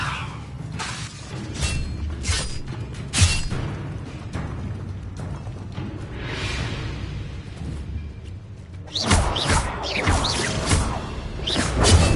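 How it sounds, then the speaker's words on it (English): Mine cart mechanism in Hogwarts Legacy clanking and thudding back into place, with heavy clunks and crashing impacts over a continuous rumbling game soundscape. "The cart's returning to arm."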